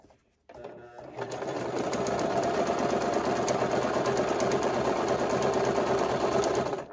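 A Brother LS 2125 sewing machine runs steadily while stitching a buttonhole, a continuous fast mechanical whirring and rapid needle clatter that starts after a short quiet moment and stops at the end.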